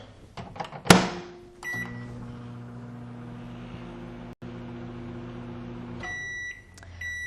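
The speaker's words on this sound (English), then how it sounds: "So I'm going to put them in the oven, microwave oven, for another 30 seconds." A microwave oven melting chocolate chips for candy: a click and beep, then a steady low electrical hum with droning tones, a brief dropout midway, and closing beeps as it finishes.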